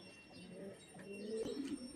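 Male domestic pigeon, one of a quality breeding pair, coos in low soft rolling phrases, close and fairly quiet, with a fuller burst of cooing toward the end.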